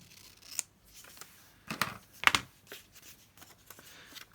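A craft knife slices the top off a paper craft piece, giving a few short dry cutting and rustling sounds, with one sharp louder cut near the middle and quieter paper handling around it; no one speaks.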